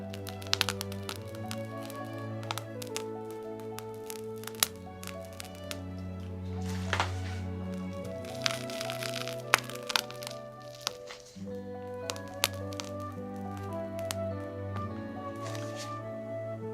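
Soft, wet squishing and crackling as thick whipped cream is handled, with gentle sticky taps and squelches over a low steady hum, close and quiet.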